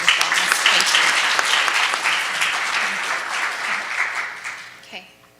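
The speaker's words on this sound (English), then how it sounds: "I just want to give them a round of applause" An audience at a meeting gives a round of applause, loud clapping at first that thins and fades toward the end, with a voice speaking over it.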